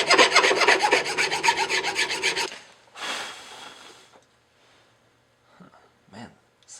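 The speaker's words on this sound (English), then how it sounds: "you're going to want to grab your file. Just clean that shit up. This is the proper way to file." A hand file rasps over the freshly sawn edge of a Miata exhaust intake part in quick rhythmic strokes, loud and close for a couple of seconds, then a short scrape and faint handling sounds.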